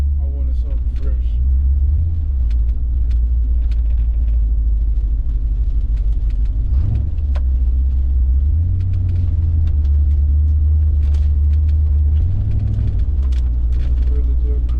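Steady low car engine rumble while cruising on a rainy road, a continuous drone with a few swells in pitch as speed shifts, a voice talking over it throughout.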